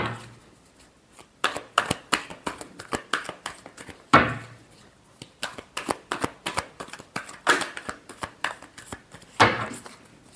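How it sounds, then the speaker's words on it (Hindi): Tarot cards are shuffled by hand in a quick series of crisp riffling and slapping bursts, with louder flourishes every couple of seconds, close and clear with no talking. "last shuffle"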